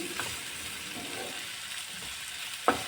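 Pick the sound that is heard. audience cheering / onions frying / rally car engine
onions frying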